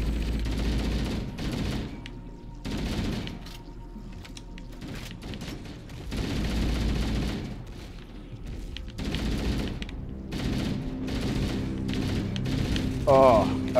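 Assault rifle fire in Halo: Combat Evolved co-op play, bursts of rapid shots recurring throughout amid game effects and mechanical clatter, with a voice talking over parts of it.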